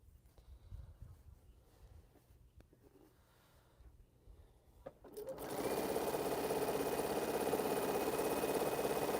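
Sewing machine stitching a string-pieced quilt border from African Ankara fabric scraps: after about five seconds of quiet room noise, a steady loud whirring drone runs continuously to the end.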